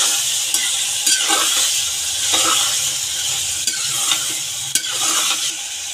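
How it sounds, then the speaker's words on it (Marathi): Chicken liver fries in hot oil in a pan, a steady close sizzle broken by repeated scraping strokes and clicks as it is stirred. "कलेजीलाही चांगलं तेलामध्ये फ्राय करून घ्यायचं आहे"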